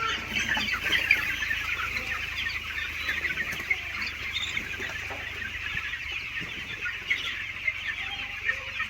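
Chickens cluck and chatter continuously inside a broiler poultry farm shed, a dense, moderately loud flock murmur with occasional sharper calls standing out, heard without talk.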